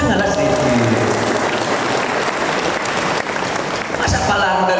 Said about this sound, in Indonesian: Tepuk tangan lah sedikit.